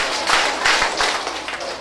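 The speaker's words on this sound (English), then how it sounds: "Clap three times." A group of children claps in unison three times, sharp, crowd-sized claps close together over a brief spell with a soft room murmur.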